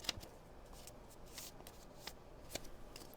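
Paper being folded into a smaller triangle for an origami crane, a few soft, close crinkles and sharp creasing taps scattered over a quiet background.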